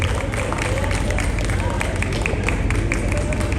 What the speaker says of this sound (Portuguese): Um aplauso, por favor, especial para a nossa querida cantora